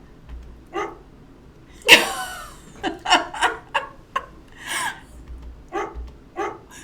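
A dog barks repeatedly in short, sharp bursts at close range, with one especially loud bark early on followed by a steady string of barks.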